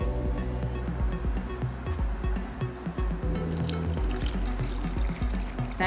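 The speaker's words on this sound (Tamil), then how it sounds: "இதை இனி தண்ணி ஊற்றி டெஸ்ட் பண்ணிக்கலாம்." Water pours steadily into a small aquarium made from a cool-drinks tin, a continuous close splashing and trickling with dripping, slightly brighter near the end, and no talking.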